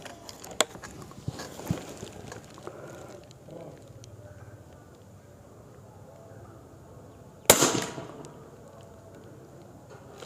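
A single sharp report from a NovaVista Behemoth .25 PCP air rifle cracks out near the end after some quiet handling clicks and taps, close and loud against a low background.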